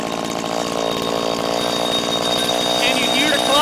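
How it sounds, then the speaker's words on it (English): A two-stroke string trimmer engine runs close by with a buzzy, rattling drone while its idle is being adjusted upward, the pitch wavering and rising slightly toward the end. "So let's go ahead and fire it back up again. Now I'm going to add some idle."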